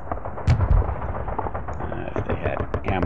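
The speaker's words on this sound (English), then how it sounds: "Got a lot of artillery back here." Artillery fire in the wargame Sealion '40, a few deep booming blasts and rumbling impacts, the strongest early on, mixed with someone talking over them.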